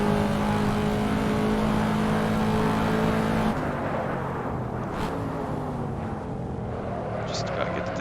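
A Corvette C7 in the Assetto Corsa racing game roars at high revs, then drops in pitch as it brakes and downshifts, a steady loud engine drone.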